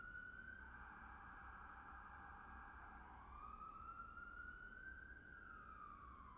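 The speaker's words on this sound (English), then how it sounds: "We'll wait for the siren to go by." A wailing emergency siren passes in New York, sweeping up and down continuously at a distance over low traffic rumble, with no talking.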